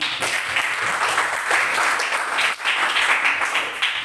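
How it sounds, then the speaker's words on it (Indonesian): Classroom applause during a biology lesson presentation: a dense, steady wash of many hands clapping together, fairly loud and continuous for about four seconds with no talk over it. "Oke, tepuk tangan."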